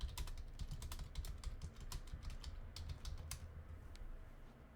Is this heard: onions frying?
no